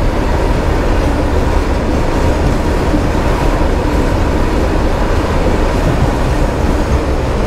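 A train rumbles steadily past a railway level crossing on a road trip from Jamshedpur toward West Bengal, loud and close, with continuous wheel and carriage noise throughout and no talking.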